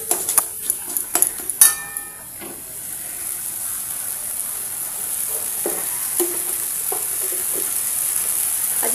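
Snakehead fish curry sizzling in a pan after chili powder is added, with a steady frying hiss, a few sharp clinks of a utensil against the pan early on, then continuous sizzle alone.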